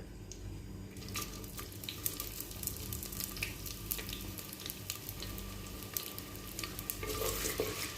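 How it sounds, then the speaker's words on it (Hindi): Sliced onions fry in olive oil in a clay pot on a high flame, making a continuous close sizzle and crackle with scattered pops and a faint watery hiss underneath. "प्याज को आपने लाइट सा गोल्डन करना है हाई फ्लेम के ऊपर"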